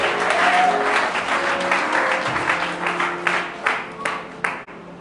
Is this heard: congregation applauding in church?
yes